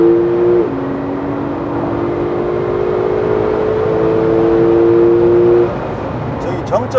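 A Porsche 911 Turbo S Cabriolet accelerates hard with the roof open, its engine tone climbing steadily then dropping at a gear change before climbing again, heard from inside over steady wind and road noise.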